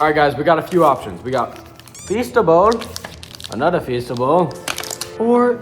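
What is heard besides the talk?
No distinct noise like a dog, phone or traffic.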